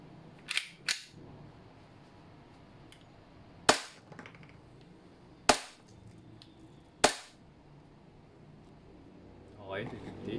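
WE Glock 17 Gen 4 airsoft gas blowback pistol firing, several sharp cracking shots spaced a second or more apart, close and crisp against a quiet room, with talking in the background.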